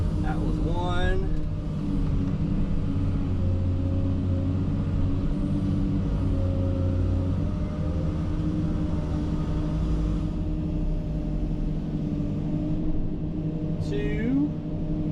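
Komatsu excavator scooping dirt into a Volvo 30-ton haul truck in heavy haul mode: steady diesel engine rumble with low harmonic drone close by, brief metallic clanks and hydraulic whine, continuous throughout.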